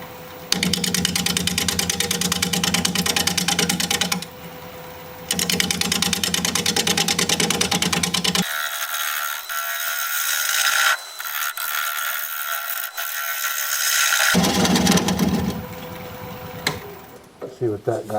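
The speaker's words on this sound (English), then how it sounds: "We're going to be turning at 560 RPM, 5/8 inch bowl gouge, mask and face shield on." A wood lathe spins aromatic cedar at 560 RPM while a 5/8 inch bowl gouge cuts, giving a loud, steady mechanical whir with rattling chatter that pauses and shifts in tone as the cut changes.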